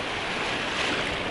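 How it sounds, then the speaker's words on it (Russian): Sea waves break and wash onto the shore at Antalya, Turkey, a loud, broad rushing roar of surf that fills the whole moment, with some wind buffeting the microphone. "Посмотрите на эту волну, ребят."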